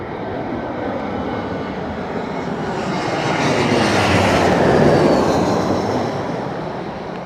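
A jet airliner takes off at Heathrow Airport in high winds, a loud broadband engine roar swelling toward a peak midway and then easing slightly as it climbs away, with no talking.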